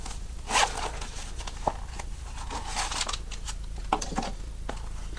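The zipper on a leather wallet is worked open and shut, giving a few quick close rasping pulls amid light handling rustles.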